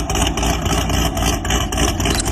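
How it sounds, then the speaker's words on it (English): A cammed muscle car engine idles with a loud, lumpy, uneven chop, a steady rough rumble pulsing irregularly throughout, close by and without voices. "Why do some muscle cars sound like they're barely running?"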